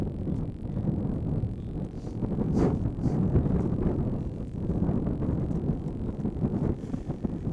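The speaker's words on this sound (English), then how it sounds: "A windy day in the Philadelphia area." Strong wind buffets the microphone in low, rumbling gusts throughout, steady and loud, at an outdoor college field hockey semifinal in the Philadelphia area.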